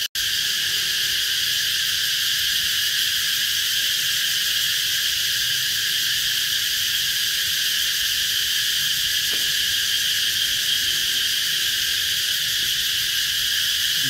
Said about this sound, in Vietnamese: Mấy khi là nghe tiếng ve kêu.